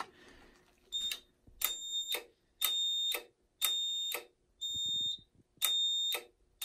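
Simplex TrueAlert fire alarms triggered by a Simplex 4251-20 pull station in a home test system sound in loud, evenly spaced tonal bursts, about six pulses, each with a bright ringing tone and short silent gaps between them.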